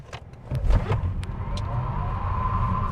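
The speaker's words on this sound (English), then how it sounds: "Just spun the tires all the way." A 2025 Lucid Air Grand Touring electric sedan launching hard from a standstill, tires spinning and struggling for grip: a close, loud roar with a rising whine that swells abruptly and holds steady.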